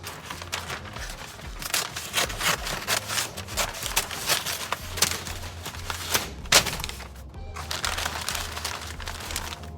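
A knife slices through smoked brisket with a crinkly, rasping cut, a run of close, uneven sawing and crackling strokes with brief louder snaps and no talk.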